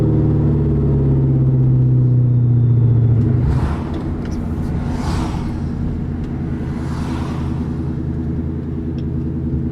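Engine braking from a New Edge 1999-2004 Mustang GT with 4.10 rear gears on a downshift: a loud, steady low engine drone that drops in pitch midway, with rumbling road noise continuing throughout.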